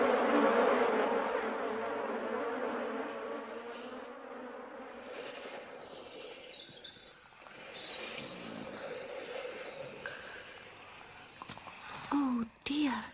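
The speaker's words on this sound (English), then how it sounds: "help me drive out these tiresome bees" Cartoon bees buzz in a Peter Rabbit animated tale, a steady droning hum that fades gradually, followed by softer animated sound effects.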